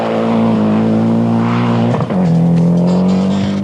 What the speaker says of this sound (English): Hot on his heels was the ultra-competitive Dunkerton in the Mitsubishi